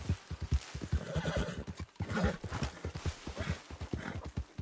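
Horse hooves clip-clopping in a fast, steady galloping rhythm in the Red Dead video game, close and clear, with a whinny mixed in and no talk.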